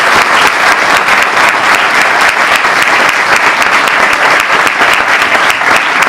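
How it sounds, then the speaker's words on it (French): Loud, dense applause from a gathered crowd thanking and honouring a group, sustained evenly for the whole stretch with no talk over it. "je voudrais vraiment vous applaudir et vous remercier pour tout ce que vous avez fait."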